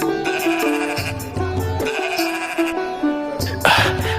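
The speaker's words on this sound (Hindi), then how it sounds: "ये भेड़ें तो बड़ी ही अच्छी नस्ल की लग रही हैं" Sheep bleat in a Hindi cartoon moral story as a pair of fine-breed sheep are presented at a king's court; several loud, close, wavering bleats follow one another over a steady tonal background, with no talk.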